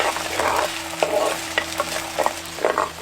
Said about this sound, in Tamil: கூடவே கொஞ்சம் உப்பு சேர்த்து வதக்க ஆரம்பிச்சிருவோம்.